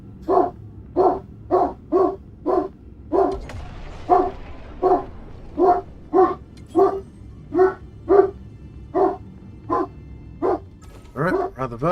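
A dog barks repeatedly in a steady rhythm, about sixteen sharp barks spaced roughly evenly over a dozen seconds, moderately close and loud, with a faint whimper-like tail near the end.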